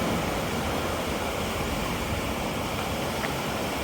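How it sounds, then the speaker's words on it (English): The Sackville River rushes in a steady, dense broadband roar beside the Bedford Highway, constant and unbroken with no voices. "That river is the Sackville River."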